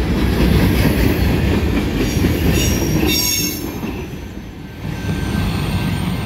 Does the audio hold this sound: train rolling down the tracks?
yes